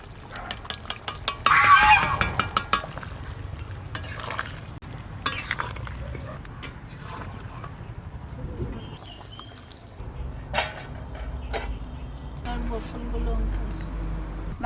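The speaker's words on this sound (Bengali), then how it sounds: "এবার নাড়া দিয়ে দিচ্ছি মাংসটা।" Mutton curry being stirred in a cooking pot during rain, with scraping and clattering strokes bunched near the start, then softer stirring under a steady background and a voice speaking.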